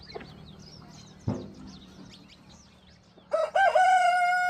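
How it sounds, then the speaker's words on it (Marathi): A rooster crows loudly and close at the end, after faint bird chirps and a single dull thump in a quiet farmyard. "गार्डिंग माझा फेवरेट कोंबडा बघू शकतात"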